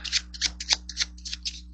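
A series of quick, crisp riffling bursts of cards being shuffled, close up, in an uneven rhythm over a low background hum.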